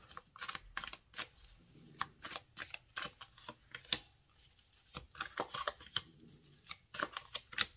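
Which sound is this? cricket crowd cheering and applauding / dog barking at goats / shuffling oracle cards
shuffling oracle cards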